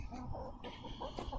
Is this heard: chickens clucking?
yes